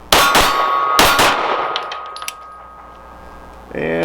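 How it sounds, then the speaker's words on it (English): Two loud metallic clangs ring out in quick succession as 9mm bullets from a Walther PDP Match pistol strike a steel gong, each leaving a long bright ringing tone that slowly fades. "And maybe the gong."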